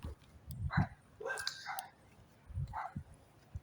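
Dogs bark a few short, faint times in the distance, separate yaps spread across the moment, with a quiet voice murmuring in between.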